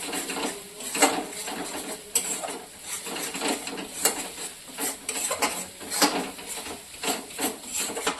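A spoon scraping and stirring yogurt masala mushroom curry in a pan, steady close scrapes and soft knocks against the metal, repeated in an uneven rhythm with no talk.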